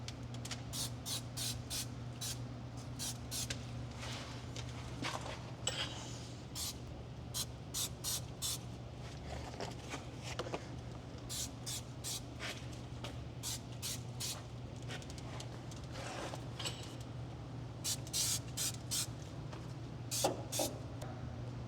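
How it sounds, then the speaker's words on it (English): Repeated short hissing bursts of aerosol anti-spatter spray applied to a car rear frame rail before MIG welding, a dozen or more quick sprays in uneven clusters over a steady low mechanical hum. "We advise using anti-spatter spray on the areas where you don't want to get MIG welding beads."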